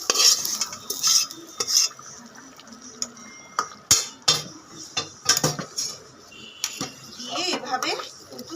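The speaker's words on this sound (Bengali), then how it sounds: "পেঁয়াজটা আমি এবার খিচুড়ির মধ্যে দিয়ে দেবো" A spoon stirs fried onion into masoor dal khichuri in a pot, giving sharp metallic scrapes and clinks in uneven bursts over a soft sizzle, close and fairly quiet.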